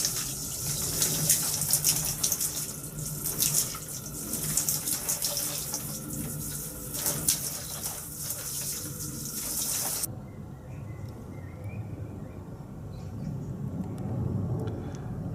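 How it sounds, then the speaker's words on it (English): Water splashes and pours onto a greenhouse floor in a continuous rushing gush with irregular surges. After about ten seconds the flow stops abruptly, leaving a quieter low background. "it's a good idea just to throw some water on the floor, just so it cools the atmosphere down"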